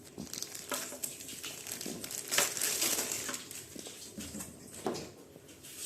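Plastic packaging crinkles and rustles as a Sansui Colossus 1000W juicer mixer grinder with four jars is unwrapped. Irregular crumpling bursts come close and fairly loud over several seconds, with no talk.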